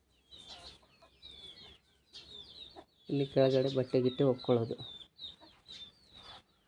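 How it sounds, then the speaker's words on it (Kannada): Chickens kept at a tribal house in Maharashtra cluck nearby, a busy run of close clucks and squawks in the middle, while a person talks around them. "ಕೋಳಿ ಸಾಕಿದ್ದಾರೆ"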